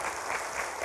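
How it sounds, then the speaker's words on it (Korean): Brief burst of congregation applause during a Sunday church service at Juwang Church, steady moderate clapping with no voices. "우리 박수로 한번 격려하도록 하겠습니다"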